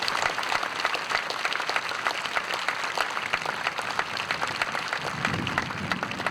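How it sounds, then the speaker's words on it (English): An audience at a memorial flyover gives sustained applause for the pilots, dense steady clapping from a crowd heard from within the stands. "So let's give them a round of applause."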